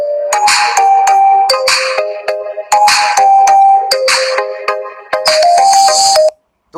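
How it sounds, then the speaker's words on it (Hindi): An Android phone ringtone plays loud and close, a bright repeating melodic tone pattern in several bursts that stops abruptly near the end. "और सुना देते हैं आपको रिंगटोन इसमें कुछ।"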